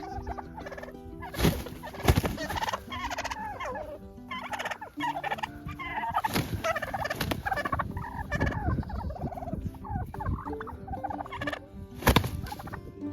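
Turkeys on a cold winter farm gobble loudly and repeatedly, overlapping bursts from several birds close by with short sharp calls throughout, no talking.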